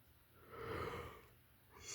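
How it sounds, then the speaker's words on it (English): A person gives a single soft, breathy yawn that swells and fades, faint and close, with a short breath at the end. "sorry, I yawned"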